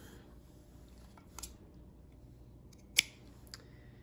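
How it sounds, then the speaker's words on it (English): Scissors snipping yarn while trimming a crochet tassel: a few quiet, isolated cuts, one sharper snip standing out near the middle, against a soft room background. "we'll rotate one more time and cut the rest here"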